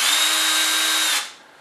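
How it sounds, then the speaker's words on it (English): A big power drill bores into a plastic GoPro case, a loud, steady high whine up close that runs for just over a second, then cuts off and winds down. "And then you could take your big drill like this, and just go ahead and drill into the case."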